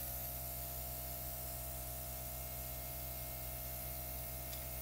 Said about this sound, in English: And let's start airbrushing.